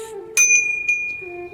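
A small metal bell hung in a temple gives two bright, ringing strikes about half a second apart, each leaving a clear sustained tone that fades slowly, with no one talking.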